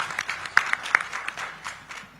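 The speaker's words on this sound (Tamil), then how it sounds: "நம்ம விவசாயிகள் எல்லாருமே மறுபடியும் ஒரு நட கைத்தட்டி" A crowd of farmers at a farmers' meeting clapping in a short, scattered burst of sharp individual claps that thins out quickly.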